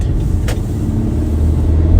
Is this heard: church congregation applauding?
no